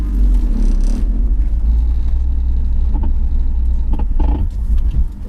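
BMW E46 fitted with Revshift engine and transmission mounts, a deep steady engine rumble heard from inside the car, loud and constant with slight vibration and a few faint clicks on top.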